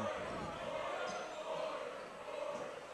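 A basketball is dribbled on an indoor court during a live game, its bounces faint and partly buried beneath a commentator's voice and a noisy crowd.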